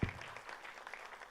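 A film trailer launch crowd applauds for actress Madhu at a Bhojpuri film event, a brief burst of clapping that stays moderately loud and dense for just over a second.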